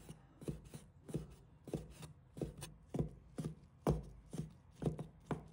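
A knife chops soaked, squeezed-dry shiitake mushrooms into strips on a board, about a dozen crisp, fairly even strokes in a steady rhythm, close and clear with no talking.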